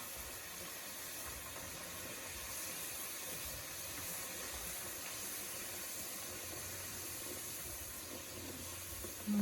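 Banana puris frying in hot oil on high heat, a soft, steady sizzling hiss that runs evenly and quietly throughout with no voices.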